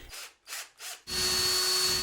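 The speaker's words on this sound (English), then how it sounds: "Next, we change to a larger drill bit" Three short bursts of a power drill whir in quick succession, then the drill runs continuously at a high, steady whine, using a larger bit to enlarge holes in a ceiling.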